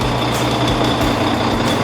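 A show-prepped heavy truck, spoken of alongside a V8 Scania, idles close by with a deep, steady engine rumble and an even low throb, running alone without talk.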